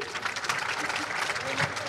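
A crowd applauds in welcome of a guest at a political gathering, a steady, dense patter of many hands clapping, moderately loud, with a faint murmur of voices mixed in.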